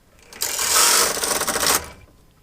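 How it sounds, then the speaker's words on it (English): A knitting machine carriage sweeps one row across 13 cast-on stitches, a single loud close whirring rattle lasting just over a second, with no talk. "I'm going to knit one row across"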